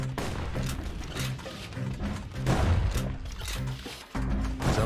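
Gunfire from the action video game Bastion, a run of sharp shots and booming impacts over a game soundtrack, loud and fairly steady across the stretch.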